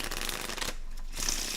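Cards or coins being shuffled by hand during a quarter-roll hunt, a quick rustling riffle, a brief pause, then more soft riffling, fairly quiet and close with no talk.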